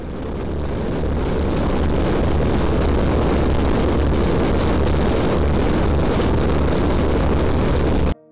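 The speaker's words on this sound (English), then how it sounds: "Very rare video of an engine startup by a Lockheed Super Constellation." A Lockheed Super Constellation, the 1950s triple-tail airliner, runs its piston engines at startup: a loud, steady, close-up roar that holds for the whole stretch, with no voices, then cuts off abruptly at the end.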